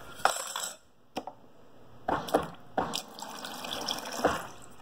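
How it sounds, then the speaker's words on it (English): Water poured into a bowl with a spoon nearby. Several short, close splashes and trickles come in separate bursts with quiet gaps between them. "I'm gonna pour some water in it."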